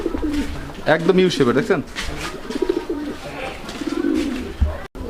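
Fancy pigeons coo in low, throaty rolls while someone talks over them close by, the cooing carrying on under his voice.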